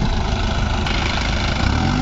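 A New Holland 3630 4WD tractor hitched to a 32-disc harrow idles steadily up close, a constant low diesel rumble with no pauses or voices.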